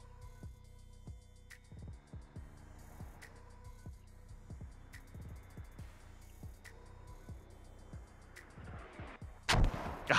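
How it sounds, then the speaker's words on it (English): Mortar rounds in the war game Squad thump repeatedly at irregular intervals, a steady series of deep distant booms, with a louder sharp crack near the end. "Oh, mortars."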